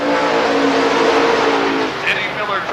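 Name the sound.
race cars at Rockford Speedway short-track race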